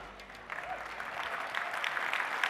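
Keynote audience at a software summit breaks into applause, rising from a quieter start into a steady, dense round of clapping, with a faint voice briefly audible early on.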